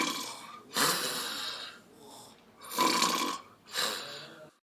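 A person's voice imitates a typical snoring sound, producing four rasping, breathy bursts, each lasting about a second, separated by short pauses and heard up close on their own.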